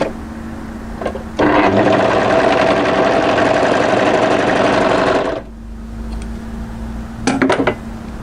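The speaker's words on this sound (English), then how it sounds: "and overlock that short seam" An overlocker whirs loudly and evenly for about four seconds, sewing a short seam on a draped midi-length dress, with softer fabric handling and clinks before and after.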